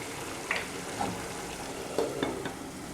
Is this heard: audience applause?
no